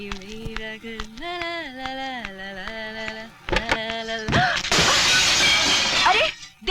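Glass shatters in a house made of glass, a loud crash with a bright spray of breaking that comes right after people talk and some background music.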